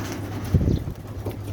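Pigeons cooing close by, a low throaty burst of coos in the middle against a steady hum, with no one talking.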